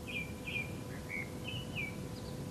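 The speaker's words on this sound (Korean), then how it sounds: "새소리 들리세요, 여러분?" Birds chirp outdoors on a fine day, short bright calls repeating every half second or so, moderately distant over a low steady background hum.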